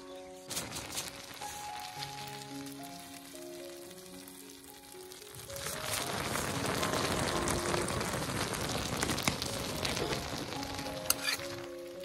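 Jujube pickle with jaggery and masala sizzles and bubbles in a pan, heard faintly under melodic music at first, then as a steady, louder frying hiss once the music fades.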